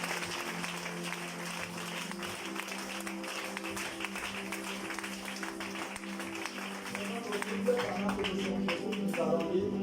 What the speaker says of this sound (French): Est-ce qu'on peut acclamer encore pour Jésus?